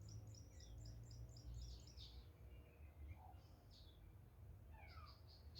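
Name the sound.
birds singing outdoors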